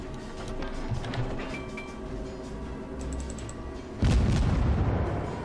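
Warship shells striking targets in World of Warships, a steady low rumble of distant impacts that ends in a sudden loud, broadband blast in the last moments.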